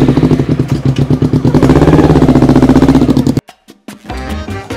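A motorcycle engine runs close and loud with a rapid, chugging pulse that cuts out abruptly, followed by a few knocks and a quieter rumble.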